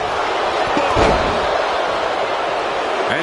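A wrestler is slammed hard to the mat by a running STO in the WWE 2K25 video game, a single heavy thud heard over constant arena crowd noise, with commentary running throughout.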